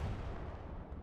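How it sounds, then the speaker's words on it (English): Artillery fire in the World War II shooter Hell Let Loose comes through as a dull, low, rolling rumble, fairly faint and distant, sustained without distinct separate blasts. "May have been artillery."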